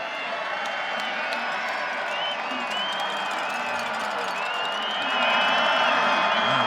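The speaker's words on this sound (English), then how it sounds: "Now listen to the visiting crowd cheering on their defense on 3rd down and 13" A visiting high school football crowd in the stands cheers on its defense on a third down, a broad roar of voices and whoops that swells louder near the end, with a commentator talking over it.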